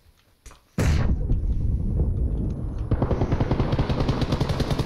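Video game gunfire, a few sharp shots and then a loud sustained burst of automatic fire rolling on and continuing to the end, with a muffled explosive undertone.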